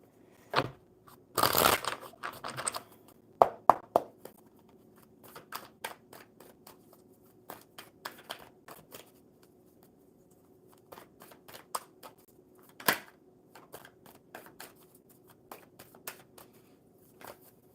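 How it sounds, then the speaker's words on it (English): Repeated riffle shuffles of a deck of cards, a loud burst early then quieter crisp flutters and taps spread through, no talking. "All right, one more good shuffle for Leanne."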